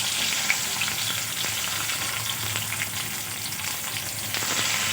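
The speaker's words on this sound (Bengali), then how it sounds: "তেল গরম হয়ে গেছে। আলুগুলো ভেজে নেব।" Potatoes frying in hot oil in a wok, a steady close sizzle and crackle with occasional stirring clicks, continuous and unbroken by speech.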